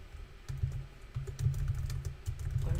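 Steady typing on a computer keyboard while a file name is entered in the Emacs editor, a quick run of close, light key clicks over a low background hum, with no voices.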